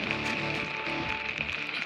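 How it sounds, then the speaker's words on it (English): Steady rain patters on a tarp at a backwoods campsite, a soft, even hiss of drops with a faint background crackle, quiet and continuous with no talking. "has started raining."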